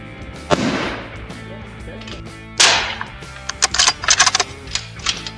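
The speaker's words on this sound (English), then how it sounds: "we're going to get after it and send some rounds down range" Cadex Kraken sniper rifle fired downrange at a steel plate, with two loud, sharp shots a couple of seconds apart, each trailing off, followed by faint clicking and rustling handling noises.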